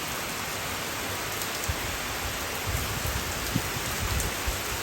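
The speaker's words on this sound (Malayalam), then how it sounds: "വളരെ കുളിർമ നൽകുന്ന നല്ല മഴയാണ്" Steady rain pours down without a break, a dense even hiss with scattered drops pattering on surfaces close by, and no voices over it.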